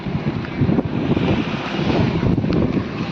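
Sea waves and wind at a jetty on the Konkan coast: a steady, loud rush of wind buffeting the microphone over continuous surf, with no voices.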